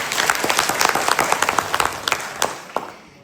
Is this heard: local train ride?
no